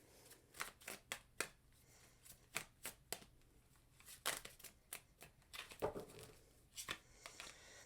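Tarot cards are shuffled in quick, crisp riffles and slaps, a series of sharp bursts close up in a quiet room.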